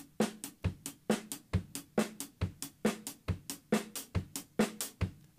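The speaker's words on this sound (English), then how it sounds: "a faster version of this groove would sound like this." Fast, busy reggae drum groove with a linear pattern of crisp snare hits and hi-hat strokes, played in a tight, steady, driving rhythm close up on an acoustic kit, with no voices.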